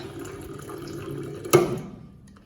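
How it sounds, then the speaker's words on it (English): Water pours into a jar of raw almonds on a kitchen counter, a soft steady trickle that ends with a brief splashy surge, heard close and alone. "And then just add enough water to cover them up."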